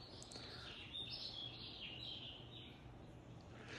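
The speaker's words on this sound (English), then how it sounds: "You can hear the birds chirping and perhaps the waves breaking." Faint birds chirping in the distance over a low, steady background hiss, with a few brief higher calls scattered throughout.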